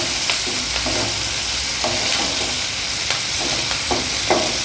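Soya masala gravy simmering and frying in a pan, with a continuous close sizzle and intermittent scraping as it is stirred.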